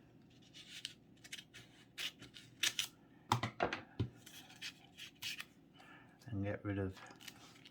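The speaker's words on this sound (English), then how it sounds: "we're going to get our scissors and just cut up in a straight line" Scissors snip through paper while a festive Christmas star is being cut out, giving a series of short, crisp cuts close by, with a person speaking briefly in between.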